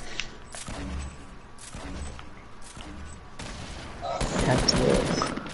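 Booming double-barrel shotgun blasts in a squad shooter game, several heavy shots at irregular intervals with a denser burst of gunfire near the end, while players talk over it.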